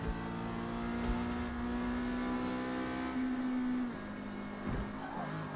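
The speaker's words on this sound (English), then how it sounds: "And I head out in my Richard Petty Mazda MX-5." A Mazda MX-5 race car in Forza Motorsport's C class at Kyalami drones loudly at high revs with a rising pitch, drops after a gear change, then picks up again with faint tire noise.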